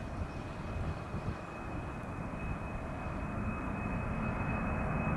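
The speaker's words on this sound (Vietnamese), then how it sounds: "Đây là pha cất cánh của chiếc Boeing 747-400F của Cargolux." A Cargolux Boeing 747-400F cargo jet taking off on a clear, windy day, giving a steady, broad jet roar that holds constant and slowly grows a little louder, with a thin high whine over it and no voices.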